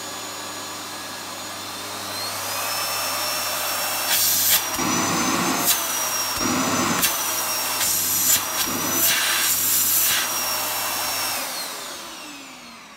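A Hoover Performer bagged cylinder vacuum cleaner runs on its minimum setting as a steady, loud motor whine with a high screeching tone, interrupted by several brief thumps and rattles midway before it powers down near the end.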